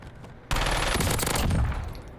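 Rapid SMG fire in a first-person shooter video game, opening after a half-second lull with a dense, sustained burst of automatic shots at close range that lasts nearly two seconds before tapering off, with no talking.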